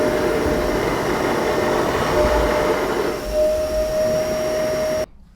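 A Zero-G F3d floating hover vacuum cleaner runs with a steady whirring motor drone and constant high whine for about five seconds, then cuts off abruptly at a stair edge, leaving near silence.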